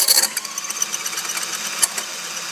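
Brief, close, high-pitched whir of a drill boring a pilot hole during a Polaris ProTector install, steady with small ripples in tone for a couple of seconds and no talking.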